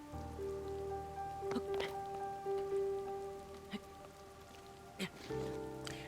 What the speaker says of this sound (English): This sucks because I like the rain.